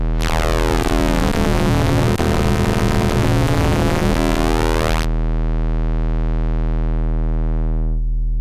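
A steady synth tone from an Audio Damage Shapes eurorack waveshaper with a rich buzzing sweep that cuts off abruptly, leaving a smoother pseudo-sine hum that fades out.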